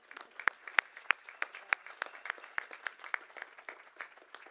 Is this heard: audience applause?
yes